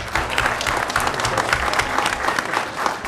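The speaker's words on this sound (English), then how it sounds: "You can clap about that." Audience applause at a school board of education meeting, a steady burst of clapping from a modest crowd lasting about three seconds.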